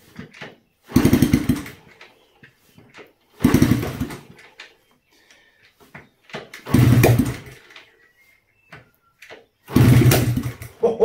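Honda CT110 Postie Bike engine blipped to full throttle in four separate loud bursts, each roaring for about a second with quiet gaps of idle or near silence between them.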